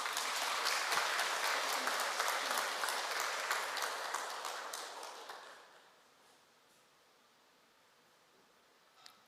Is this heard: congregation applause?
yes